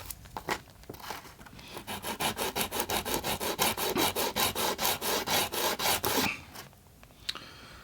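A fine file works off a casting mark on a part from a DJH 2MT 2-6-0 locomotive kit. About twenty quick, even rasping strokes sound up close in a steady rhythm, then stop, with a couple of faint taps after.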